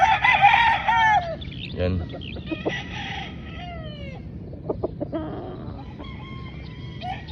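Bullstag roosters at a game farm crowing loudly and near, with several overlapping crows and some clucks and scattered bird calls in between, while someone talks briefly.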